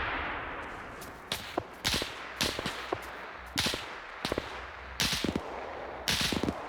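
Bursts of MG42 machine gun fire in a WW2 video game, several short sharp volleys spaced a second or so apart over a steady hissing background, fairly distant and moderate in level.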